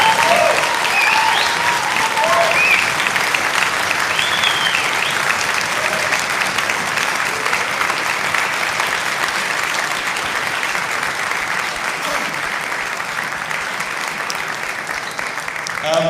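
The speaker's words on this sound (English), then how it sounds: "round of applause for Tony." Sustained applause fills a hall as an audience at a music venues industry conference claps for a speaker, a dense, even wash of many hands that holds steady and tapers slightly toward the end.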